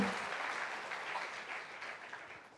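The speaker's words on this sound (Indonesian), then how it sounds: "kita berikan aplaus dulu untuk Mbak Popi" A studio audience on a talk show applauds for a guest, a short, faint, steady patter of clapping that fades slightly toward the end.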